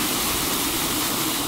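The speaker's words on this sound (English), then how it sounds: "I'm gonna start by filling one with just clean water" Clean rinse water running from a tap into a plastic bucket fitted with a grit guard, ahead of a rinseless car wash; a steady, close, even rushing pour with no talk.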